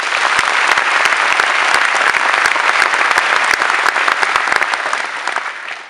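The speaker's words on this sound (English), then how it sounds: "I'd ask you all to give Brian a round of applause" Steady, dense applause from a ceremony audience at an Irish citizenship ceremony, loud and continuous throughout with many overlapping claps and no talking.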